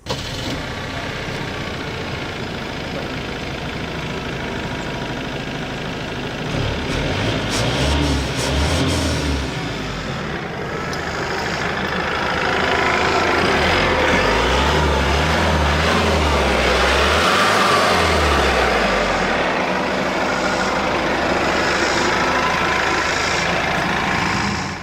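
A Cummins 2.8 diesel in a Nissan Frontier prototype pickup cranks to life and idles with a steady low clatter, then revs up in two rising and falling bursts, close and loud with no talking.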